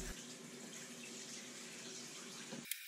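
Water gushes steadily from a tap into a bathtub, a continuous rushing stream that cuts off abruptly near the end.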